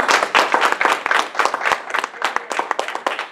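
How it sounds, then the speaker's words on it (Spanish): A church congregation claps together for about three seconds, with quick, dense, fairly loud hand claps forming a lively burst of applause and no speech over it. "Denle un aplauso al Señor."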